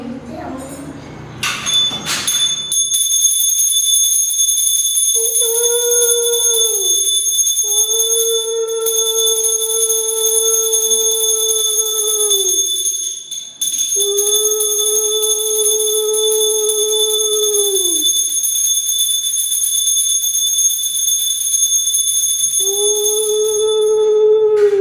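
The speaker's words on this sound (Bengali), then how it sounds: "একজন ঘন্টা বাজাও।" A handbell rings steadily for a home puja offering, its bright sustained ringing carrying throughout, while lower held tones rise and stop in several long stretches.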